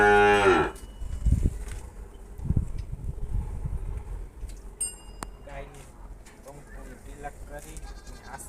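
A cow lows once, loud and close, at a devotional greeting of the cow, followed by outdoor ambience as people talk nearby.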